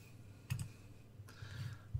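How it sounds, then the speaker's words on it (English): Fingers tap out an IP address on a computer keyboard while a NodeMCU temperature and humidity sensor project is being set up, giving a few soft, close keystroke clicks in brief clusters over a low steady hum. "Now I access this by just typing in the IP address here."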